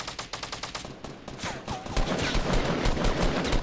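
Rapid gunfire in the video game Fortnite, bursts of close automatic shots rattling in quick succession, then a denser, louder fusillade that continues steadily to the end.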